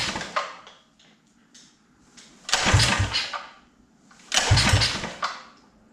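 Small engine with a Mikuni VM22 clone carburetor is pull-started twice, each pull giving a loud burst of rough cranking that sputters and dies without catching.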